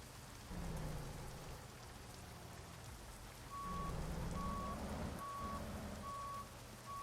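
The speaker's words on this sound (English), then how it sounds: "It's raining in Texas." Steady rain pours down in American Truck Simulator in Texas, a dense continuous hiss with low rumble, while a truck's reversing beeper repeats in the second half.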